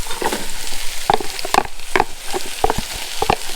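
A large sliced onion frying in a pan over medium heat, a close sizzle with crackling pops and the scrape of a wooden spoon stirring at irregular intervals.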